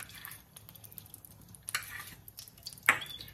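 Cashews frying in ghee in a pan, a soft low sizzle with scattered stirring scrapes and a few sharp utensil clinks.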